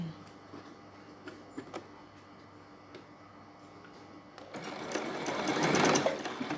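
Sewing machine stitching a fabric collar, a steady mechanical whirr and ticking that runs quietly at first and then grows louder and busier near the end, with faint speech in the background.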